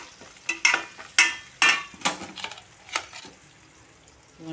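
Onions frying in a pan for Andhra-style fish curry (chapala pulusu), a close sizzle broken by several scraping stirs of a spoon against the pan, quiet and with no talking.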